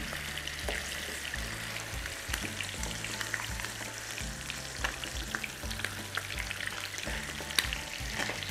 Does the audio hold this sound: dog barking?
no